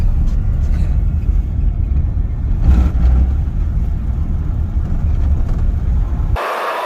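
A stick-shift Chevy Silverado pickup fitted with a Chevy LS engine rumbles steadily and close by, its low idle drone swelling briefly before cutting off near the end.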